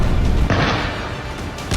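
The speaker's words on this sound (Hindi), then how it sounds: "जमीन पर टैंक और तोप भीषण हमले कर रहे हैं" Heavy tank and artillery fire in the Gaza war, with booming blasts that swell into a sustained loud roar and a fresh burst near the end, no voices.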